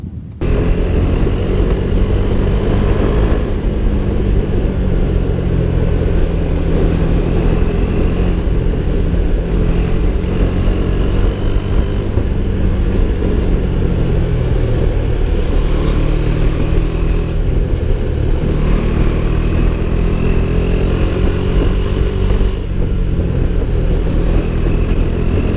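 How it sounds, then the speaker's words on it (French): A KTM Duke 390 motorcycle's 373 cc single-cylinder engine drones loudly and continuously, rising and falling in revs as it rides along, with steady wind rush. "Côté moteur, on retrouve un monocylindre de 373 cm3 qui développe 32 kW."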